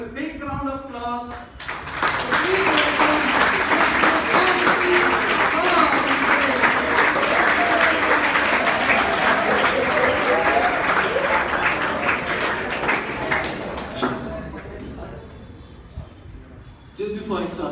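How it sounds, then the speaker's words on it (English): A school audience at Kendriya Vidyalaya breaks into a big round of applause, a dense, loud roar of clapping and crowd noise lasting over ten seconds before tapering off, with a voice speaking before and after. "I want you all to give a big round of applause"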